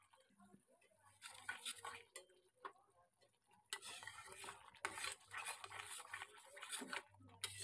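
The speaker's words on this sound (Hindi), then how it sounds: "हमें अच्छे से इसे चलाते हुए भूनना है, मलाई हमारी मिल जाए मसाले में।" A spoon stirs and scrapes masala being roasted with homemade cream in a pan, with irregular clinks and scraping strokes, a soft sizzle underneath and brief bits of voice in the background.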